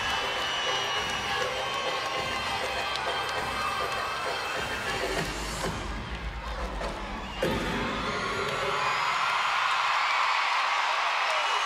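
Loud arena crowd cheering and shouting for gymnast Haley Bryant at a West Virginia versus LSU gymnastics meet, a continuous roar with whoops and high-pitched yells that swells again late.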